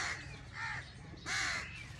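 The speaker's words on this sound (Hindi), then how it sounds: "और इधर से कौवे भी आए बैठे हैं, उनको डराना है।" Crows caw near a poultry farm where chickens are feeding: two loud, harsh calls ring out close by over a low steady background hum, with no speech.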